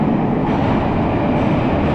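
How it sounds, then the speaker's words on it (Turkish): A metro train arriving at a station in Russia rumbles loudly and steadily close by, a dense, continuous roar with no pauses. "Aha metro geliyor."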